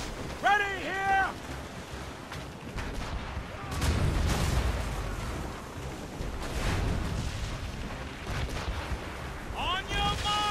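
Heavy ship cannons boom in Assassin's Creed Rogue, a few deep blasts amid wind and sea noise during a naval battle, with shouted voices in between.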